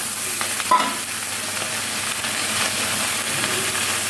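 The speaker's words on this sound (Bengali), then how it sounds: "তেল আর মাছের ডিম এবার এর মধ্যে দিলাম" Fish roe and fish oil hit hot oil in a pan and fry with a steady, even sizzle throughout, broken by a single brief clatter near the start.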